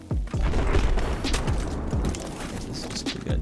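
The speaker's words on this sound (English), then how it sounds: "So I can just fire rockets all day." Rocket artillery fired in the Battlefield 4 video game, a series of sharp booming launches with whooshing tails, about six or seven shots in quick succession, loud and close.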